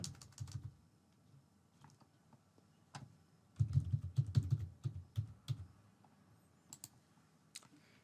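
Digits are keyed in on a computer keyboard in short bursts of quick, close clicks, with a pause before a denser run of keystrokes, no talk.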